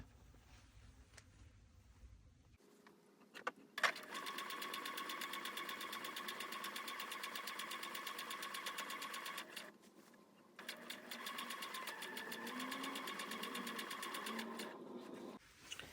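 A sewing machine stay stitches a garment neckline in two steady runs of rapid, even stitching, loud and close, separated by a short pause and handling noise.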